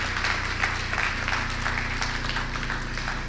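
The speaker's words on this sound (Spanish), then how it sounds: "Le pueden dar un aplauso al que vive, al que reina" A church congregation applauding together during a sermon, a dense, even wash of clapping kept up for several seconds, slightly distant, with a low hum underneath.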